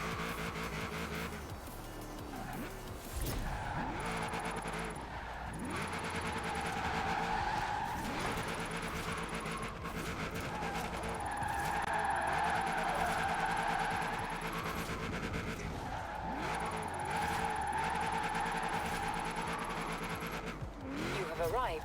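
AMC Javelin AMX drifting in Forza Horizon 4, with a steady engine drone and repeated tire squeals over several slides, under a voice talking.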